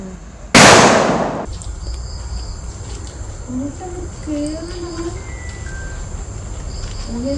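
A single loud firecracker bang cracks out early, set off to drive away a wild elephant near Nilambur town, then the air settles into outdoor ambience with birds chirping in the background.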